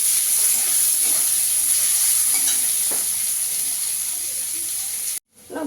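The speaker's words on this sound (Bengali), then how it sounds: "পেঁয়াজটা দিয়ে একটু লাল করে ভেজে নেবো" Onions fry in oil in a pan for a Bengali potato and taro curry, a loud, dense, steady sizzle with faint stirring touches that cuts off abruptly near the end.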